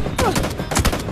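Gunfire in a shooting video game, a loud close burst of rapid shots blending into a continuous volley, no talk.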